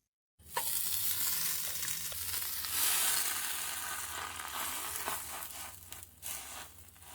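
Aloo tikki potato patties fry in hot oil with a loud, continuous close-up sizzle that starts abruptly after a brief silence and holds steady throughout.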